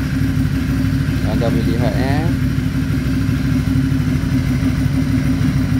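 Aprilia Shiver 750 motorcycle engine idling steadily with a low, continuous drone throughout, while someone speaks briefly over it.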